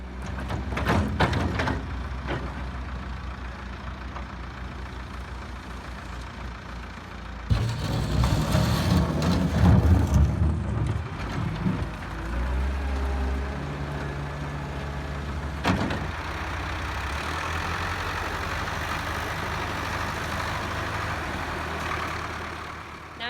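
A farm tractor pulling a feeder wagon rolls onto a concrete pad, its diesel engine rumbling steadily with a louder surge partway through and a clunk of equipment, no talk.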